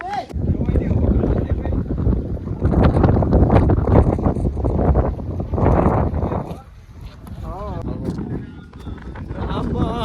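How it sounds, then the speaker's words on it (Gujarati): Strong wind on Mount Girnar buffets the microphone in a heavy, continuous roar while people talk and shout over it. "જબરજસ્ત પવન આવે યાર"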